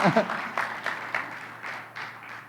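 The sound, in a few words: congregation applauding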